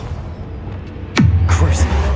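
A Bombarda spell blast in Hogwarts Legacy: a sharp descending whoosh snaps into a deep, rumbling explosion that lingers loudly for about a second afterward.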